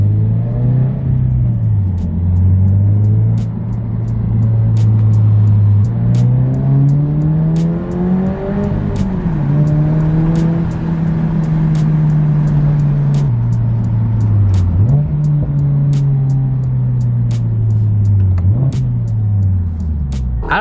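A 2022 Subaru BRZ engine breathes through a new aftermarket exhaust, giving a close, loud rumble with repeated revs that rise and fall in pitch for about twenty seconds, with no voices over it.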